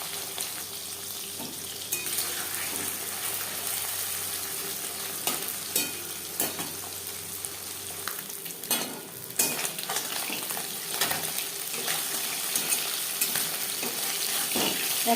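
Puti fish coated in salt and turmeric frying in a few spoonfuls of hot refined oil, a steady close sizzle and crackle with brief clinks and stirring noises throughout.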